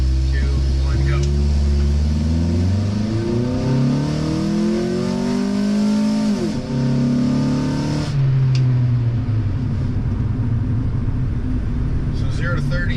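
Honda Integra accelerating hard from a standstill through a 0 to 30 run, engine revs climbing steadily with rising pitch, a brief dip at a gear change, then pulling again loud and close, with voices talking over it.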